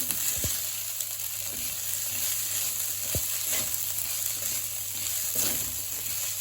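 Green chillies sautéing in a pan for poha, a continuous close sizzle and crackle with a few soft taps of the spatula, no voices.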